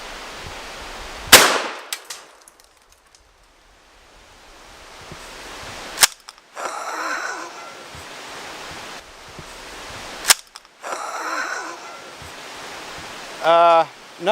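A shotgun fires a 1 ounce, 2 3/4 inch slug at a bowling ball, giving a sharp loud blast with a clanging impact, followed later by more sharp reports among rustling and breathy noise outdoors.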